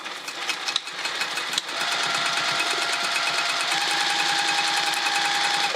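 A sewing machine stitches a woven vinyl zipper pouch, its motor whirring steadily and closely after a few short starts, settling into a continuous run with no talking.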